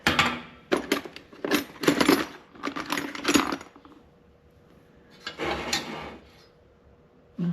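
Wrenches and metal tools clatter and scrape in bursts while a World War 2 era Coleman 220 BX lantern is dismantled, with a quieter gap before a final round of handling.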